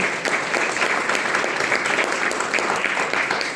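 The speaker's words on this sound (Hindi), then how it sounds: "तो एक बार जोरदार तालियां हो जाए" A seminar audience in a hotel hall claps vigorously, a loud, dense and unbroken wall of applause lasting the whole stretch with no voices over it.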